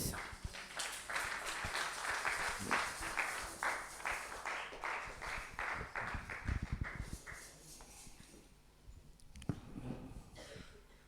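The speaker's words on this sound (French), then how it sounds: "and applaud for the Lord" A church congregation claps for the Lord, steady rhythmic applause from many hands that swells and then thins out into scattered claps.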